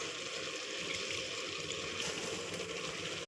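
Soaked basmati rice tipped into a pressure cooker for chicken biryani, giving a steady, close rush of grains and liquid pouring in without pause, with no talking.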